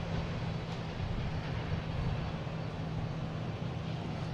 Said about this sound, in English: We have American Airlines coming in. A 737-800 from Norfolk.